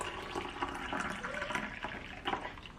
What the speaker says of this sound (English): Then we just add our water.